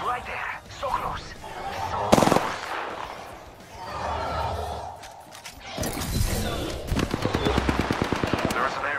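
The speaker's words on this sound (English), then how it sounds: "Getting shot at" Rapid bursts of automatic gunfire in a video game battle, with sharp single shots and a fast rattling volley near the end, under a steady wash of game ambience and occasional talk.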